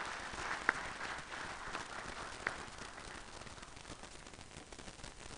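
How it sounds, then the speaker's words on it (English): Audience at a surgeons' college induction ceremony giving a round of applause, a faint, distant wash of many hands clapping with a couple of sharper individual claps standing out. "Let's show our appreciation by giving these people a round of applause."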